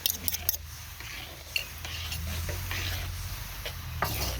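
Thai meatball dipping sauce of tomato sauce and tamarind simmering in a pan while it is stirred, a soft steady bubbling and scraping hiss that runs throughout, with a few clinks of a utensil near the start.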